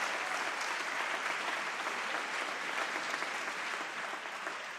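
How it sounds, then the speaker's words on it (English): Sustained applause from Illinois lawmakers of the General Assembly in Springfield, a dense even wash of clapping that holds steady throughout and eases slightly at the end. "give yourself a nice round of applause"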